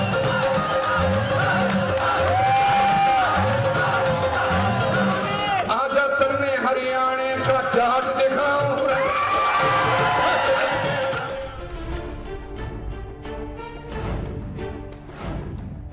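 A singer performs at a crowded political rally, his loud amplified singing carried over the continuous roar and whoops of the cheering crowd. The music thins toward the end as the crowd noise persists.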